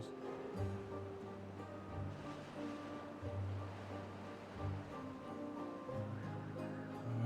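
Water from nine sources in the Timberborn video game rushes steadily as a soft, continuous wash beneath tonal background music, holding an even level throughout.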